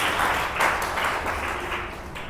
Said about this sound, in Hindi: जोर से ताली बजाए यीशु के लिए